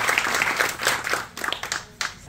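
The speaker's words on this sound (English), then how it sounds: "let's give applause for Susan as well." Dense audience applause for a community advocate at a Scandia gathering about the Gateway Trail, a steady wash of many hands clapping that fills the short stretch with slight swells and dips.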